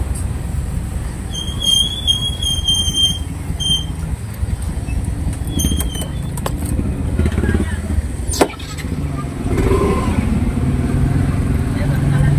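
A motorcycle rides through a parking lot, recorded from a helmet-mounted phone holder: a continuous engine drone mixed with wind buffeting, and a few sharp knocks and a brief squeal partway through.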